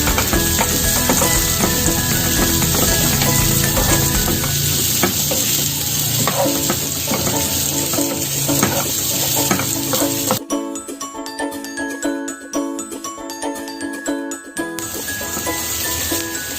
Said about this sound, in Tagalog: Just continue to stir the garlic until it turns to golden brown.